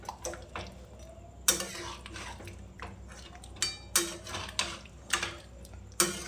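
Chicken with curry leaves is stirred in a pan, sharp clinks and scrapes of a utensil against metal coming in irregular strokes, close and clear over a faint background, with no one speaking.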